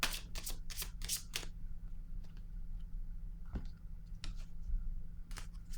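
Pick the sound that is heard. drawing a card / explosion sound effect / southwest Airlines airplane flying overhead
drawing a card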